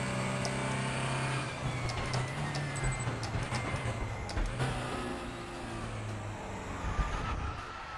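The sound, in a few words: GT3 race car driving and braking in video game RaceRoom (R3E)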